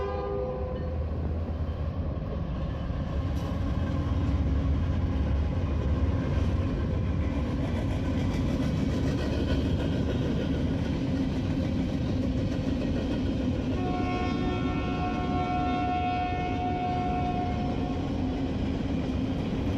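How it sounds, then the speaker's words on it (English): A 99-car empty grain train rolls north toward Canada, a steady loud rumble of wagons and engine with a sustained horn blast sounding in the later part, no voices. "this 99-car empty grain train is returning north from California to Canada"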